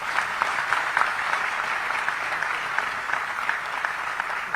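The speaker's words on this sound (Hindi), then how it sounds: "जोर से ताली बजाना" An indoor audience applauds steadily and loudly at the launch of a digital portal for cooperative societies in India; dense, continuous clapping fills the whole stretch without pause.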